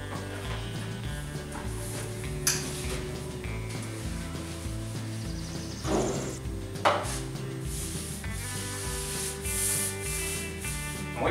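A sponge roller spreads tung oil across a wood floor with a continuous close rubbing, swishing sound over a steady background hum, and a few brief knocks along the way.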